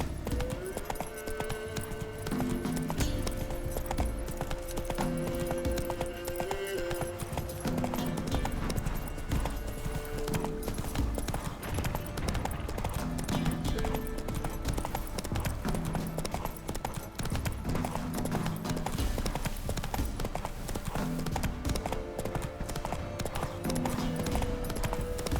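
Roach, a horse in The Witcher 3, clip-clops steadily on hooves beneath a continuous layer of game music and ambience, the hoofbeats running through the whole stretch at moderate loudness.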